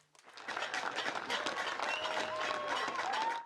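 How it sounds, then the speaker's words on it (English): Nightly applause for medical workers during the coronavirus quarantine, a dense outdoor crowd clapping and cheering steadily for a few seconds, with a few whistles rising above the noise. "Nightly applause for the medical workers, putting their lives on the line to save ours"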